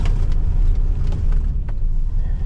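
A car driving between fishing spots near a dam in spring, a loud steady engine and road rumble from inside the cabin, close and continuous.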